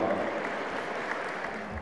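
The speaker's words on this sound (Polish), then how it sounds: "Proszę o brawa, proszę Państwa." Steady applause from a crowd at a ballroom dance party, a continuous even wash of clapping held at a constant moderate level throughout the short stretch.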